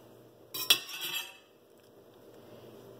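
A knife slices into a juicy tomato on a board, giving one short, close cluster of crisp, slightly clattering contact noise before the room falls quiet.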